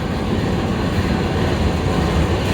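A General Electric Universal 2000 HP GU20 diesel locomotive, number 4554, gives a loud, steady, broadband rumble and roar up close at a railway in Pakistan, with no talk.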